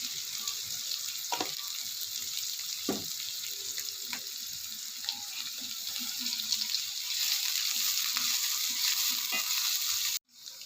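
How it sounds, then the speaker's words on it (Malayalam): Onions sautéing in oil for a prawn fry hiss in a continuous, fairly even sizzle with occasional stirring knocks, swelling slightly before cutting off abruptly near the end. "ഉള്ളി നന്നായി ഒന്ന് വഴന്ന് വന്നു."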